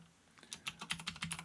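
A computer keyboard is typed on in a quick, uneven run of soft, close keystrokes after a brief quiet moment.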